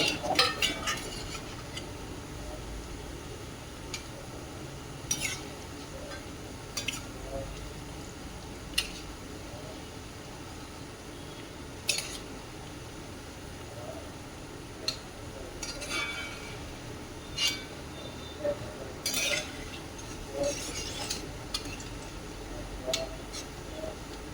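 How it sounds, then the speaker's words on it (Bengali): Vegetables fry in a pan, with a faint sizzle beneath quiet stirring and repeated light clinks of a utensil against the pan throughout. "এই যে এইগুলো ভেজে বাকিগুলো ভাজবো এই ঠিক লাল লাল করে ভেজে নিতে হবে"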